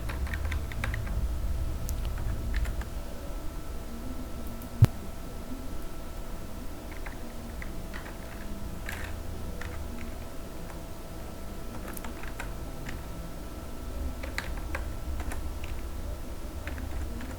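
Soft, steady keystrokes on a computer keyboard as a company name is entered, a quiet patter of light clicks running throughout with an occasional sharper tap, close and alone without speech.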